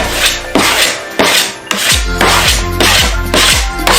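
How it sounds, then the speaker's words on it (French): Recycled wooden planks being sanded, a loud, steady rasping that comes in repeated strokes with brief breaks between passes, close up with no voices. "un petit coup de ponçage"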